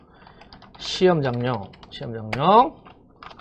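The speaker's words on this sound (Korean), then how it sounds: "타이핑 한 다음에" Computer keyboard typing, with quick light clicks scattered throughout and partly masked by a person speaking over them.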